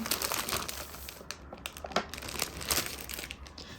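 A gift package is torn open, its wrapping crinkling and rustling loudly and continuously at close range for a few seconds.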